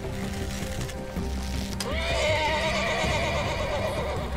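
A horse neighs loudly in a video game, its whinny rising out of busy game sounds and music with hoofbeat-like clip-clop beneath, the call swelling in the second half and carrying to the end.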